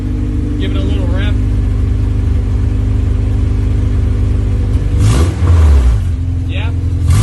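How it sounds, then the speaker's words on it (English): Swapped K24 engine in a dirt race car idling steadily nearby with a constant low rumble, then briefly revved near the end with a rising, surging roar; people talk over the engine at times. "Give it a little rev."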